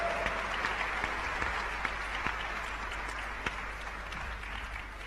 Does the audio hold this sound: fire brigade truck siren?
no